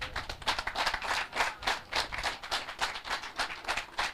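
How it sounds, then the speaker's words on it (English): Applause following a keynote speech at a media launch for Jamaican food: a modest audience claps in distinct, fairly regular bursts, with individual hand claps standing out, steady and close throughout without talk. "Please keep the applause going, Minister."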